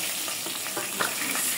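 A large river katla fish head, about five kilograms, fries in hot oil in a pan, giving a steady, fairly quiet sizzle with soft crackles and no talking.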